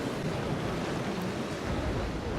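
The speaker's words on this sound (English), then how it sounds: "get a bit of wind to get on the waves" Ocean waves and wind in the naval sailing game Naval Action wash in a dense, steady roar at sea, loud and continuous with no voices.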